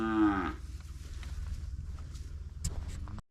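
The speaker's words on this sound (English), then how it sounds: "You kept me awake last night with your bloody mooing." Cattle lowing close by in a paddock during an outback camping trip through the Murchison, one long harmonic moo at the start, then quieter farmyard rustle and faint thuds.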